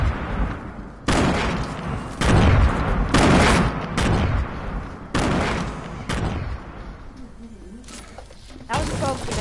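Grenade blasts and gunfire in the video game Fortnite, a series of loud broadband booms and bursts that come one after another in irregular volleys, with players talking in between.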